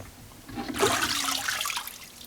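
Water gushes steadily from a tap as a restored quick-lock vise part is rinsed off, a sudden close rush that keeps running.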